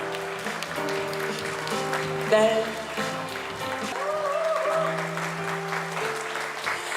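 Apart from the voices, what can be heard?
audience applause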